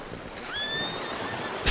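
A horse whinnies in Red Dead Redemption 2, a single rising-then-falling neigh in the middle of the clip, fairly clear over a soft ambient outdoor bed with no talking.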